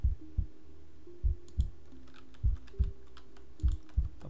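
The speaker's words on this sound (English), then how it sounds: "I'm clicking everything" Sparse computer keyboard and mouse clicks while playing a horror game, single sharp taps spaced irregularly over a quiet background with a faint steady hum.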